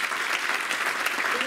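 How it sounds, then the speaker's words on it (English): Congregation at a church summer camp meeting applauding, a thick, even wash of many hands clapping close by, sustained and uninterrupted throughout. "Clap for him."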